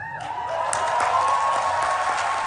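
Applause from an assembly hall as treaty negotiations conclude: a dense, steady wash of many hands clapping at moderate distance, with a faint tone running underneath and no speech over it.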